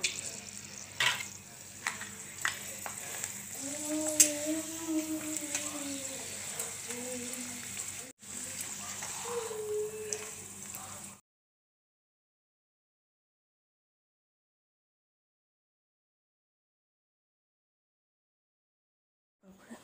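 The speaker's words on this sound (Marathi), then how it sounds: "आपण आता तळून पापड तळू" Papad frying in hot oil makes a steady close sizzle and crackle, with a faint tonal hum partway through. It runs for about eleven seconds, then cuts to silence.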